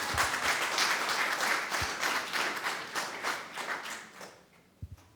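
Wedding congregation in a church bursting into sustained applause, a dense wash of many hands clapping that fades out near the end, followed by a few isolated taps.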